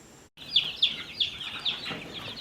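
A backyard flock of chickens and ducks calls out close by, a series of short, sharp clucks and chirps repeating in a loose rhythm after a brief gap of silence, with no voices.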